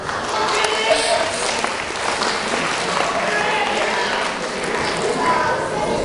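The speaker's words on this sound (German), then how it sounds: "Applaus bitte." Steady applause from a crowd, dense and even clapping that holds for several seconds with a faint murmur underneath.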